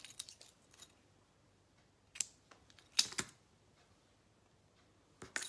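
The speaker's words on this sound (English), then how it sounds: "Scissors." A few quiet, crisp snips of scissors cutting organza ribbon, spaced irregularly with near silence between them.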